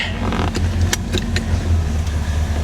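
A 1968 Pontiac Tempest Custom convertible engine idles with a slightly rich or lean carburetor idle mixture, giving a steady, close, low rumble with faint ticks and no voices.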